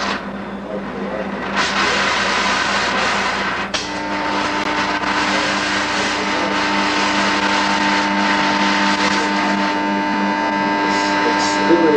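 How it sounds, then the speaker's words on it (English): A power inverter unit converting DC to AC hums steadily in the background with a constant tonal drone, while voices and some room noise sit over it. "the sound you hear in the background is that of the unit changing DC to AC"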